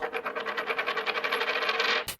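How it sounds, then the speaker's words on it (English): A coin spins down on a hard surface, its ringing wobble speeding up before it settles and stops with a final clink. "spectral Foley, just a coin."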